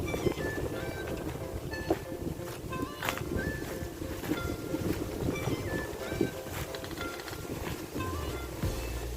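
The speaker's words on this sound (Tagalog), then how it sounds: "Masyadong mahangin. Lakas ang hangin." Strong gusts of wind batter the microphone while walking outdoors in a provincial area, a continuous loud roar with rumbling buffeting throughout and faint background sounds beneath.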